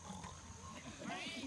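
A pig grunting and oinking over a steady background hum, a few short low snorts close by.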